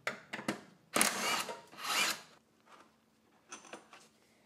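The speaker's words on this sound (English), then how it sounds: "we're gonna take a 17 millimeter and get these bolts off" A 17 mm socket on a ratchet works loose the upper shock bolts on a GR Corolla during a lowering spring install, giving a few close, loud bursts of clicking and rasping metal with short gaps between them.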